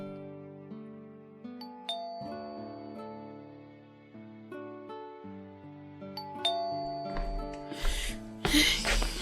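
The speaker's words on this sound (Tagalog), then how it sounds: "Makapag-doorbell nga." A house doorbell sounds as a series of ringing chime tones over a musical drama underscore, the tones sustained and overlapping before louder hits near the end.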